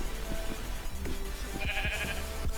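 Minecraft sheep bleating on a farm, several short bleats scattered over a constant low background hum, fairly close and moderately loud.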